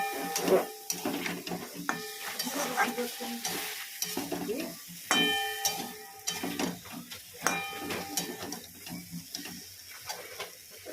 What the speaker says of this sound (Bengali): আলুটা দিয়ে দিয়েছি, কষাচ্ছি